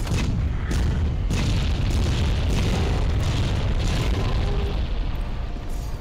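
Cannon blasts in the video game Monster Hunter: World, loud and booming, with a steady roar and repeated heavy impacts running through the whole stretch.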